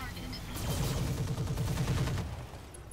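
Weapons firing in the RogueTech mech combat game, a dense burst of rapid gunfire and heavy impacts rumbling for about two seconds over a continuous battle background, fairly loud and close.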